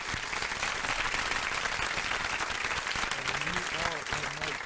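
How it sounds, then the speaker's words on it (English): Studio audience applause at a radio show, a dense steady patter of clapping throughout with some voices mixed in. "round of applause"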